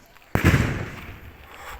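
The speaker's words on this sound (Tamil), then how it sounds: "ஆனால் பட்டாசு அடிக்கிறான்." A firecracker bursts with one sharp, loud crack during Pongal in a foggy village and is followed by a long fading rumble and echo.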